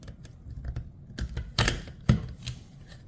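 Short, sharp snipping clicks of metal snips cutting a corner in a permanent lighting track, a few crisp cuts spaced irregularly, close and fairly quiet.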